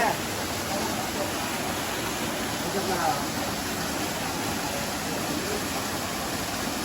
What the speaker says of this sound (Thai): แต่น้ำตกที่สวยอยู่นะตัน